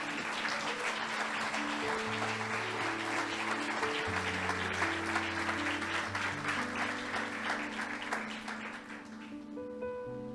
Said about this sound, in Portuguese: Dê um aplauso a Jesus pela vida dela.